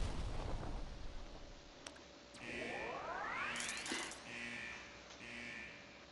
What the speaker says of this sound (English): it was a single shot blue bullet ground turret